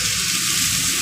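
Water meets frying spice paste in the pan, a dense, loud, steady hiss and sizzle close by.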